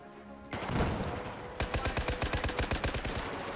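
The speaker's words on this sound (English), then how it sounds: "Someone is shooting at me." Gunfire in Battlefield 4, starting with a loud burst and then steady rapid automatic fire with evenly spaced shots, close and loud.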